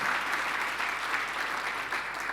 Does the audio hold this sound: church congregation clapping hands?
yes